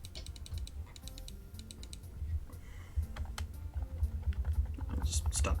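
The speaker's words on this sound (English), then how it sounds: "I'll just stop clicking to save your ears." Rapid computer keyboard typing and mouse clicking, a steady run of sharp close clicks in bursts over a low hum, denser toward the end.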